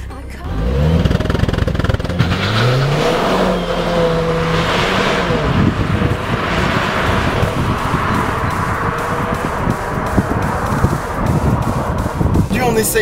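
A Renault Clio 4 RS 200 EDC Chassis Cup engine revs loud and close, rising through gears in sustained climbing pulls with a continuous throaty roar across the run.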